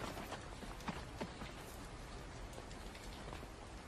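Steady rain pouring down outdoors during a picnic, a dense continuous hiss with scattered patters of drops striking surfaces, fairly faint and unbroken.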